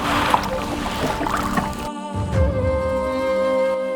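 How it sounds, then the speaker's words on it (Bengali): A rowboat moves on the Barakar river, with gentle water lapping and splashing against the hull under a steady broadband wash and a faint tonal hum, continuous and fairly close. "নৌকার ছলাৎ ছলাৎ শব্দে প্রকৃতির এই মায়াবী রূপ উপভোগ করার মজাটাই আলাদা"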